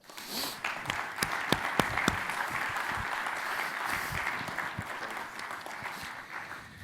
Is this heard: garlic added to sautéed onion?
no